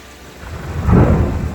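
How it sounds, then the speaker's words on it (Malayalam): A deep thunder rumble swells and fades during a hail and rain storm in New Zealand, loud and close, with rain hissing steadily underneath. "ഇടി"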